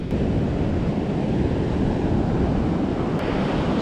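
Steady wind gusting at a Florida beach on a cool day, roaring broadband and buffeting the microphone with surf underneath, continuous and loud from start to finish with no talking.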